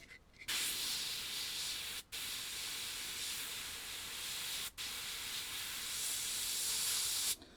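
Gaahleri GHAD-39 airbrush spraying paint: a steady, close airy hiss running for several seconds, broken by two very brief pauses, with no voices.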